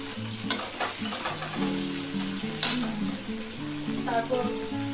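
Potatoes fry in hot oil with whole spices such as black cumin, a busy crackling sizzle with stirring scrapes, close and moderately loud throughout, with background music playing underneath.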